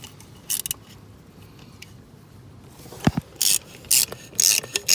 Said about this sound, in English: You're not going to break them if you can get them off with a ratchet.